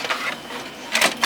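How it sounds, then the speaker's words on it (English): An inkjet printer pulls in a shirt transfer sheet from its tray. There is a steady mechanical whir and rattle, with two louder clicking feed surges near the end, close and clear, with no speech. "So I'm going to load it now into the printer, which is right here."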